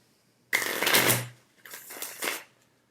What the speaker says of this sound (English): I'm letting you see that I am shuffling on camera.